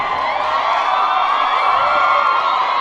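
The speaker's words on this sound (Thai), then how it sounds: "อันนี้เชียร์ใช่ไหมเชียร์ใช่ไหม" A large crowd cheers, whoops and shouts at a teachers' day line dance show for Ban Laem district, a loud, continuous roar of mixed voices throughout.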